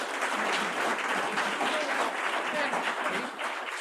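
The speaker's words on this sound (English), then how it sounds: "another applause for our newest members" A room full of club members at a weekly meeting applauds its newest members with steady, dense clapping that holds at an even level throughout.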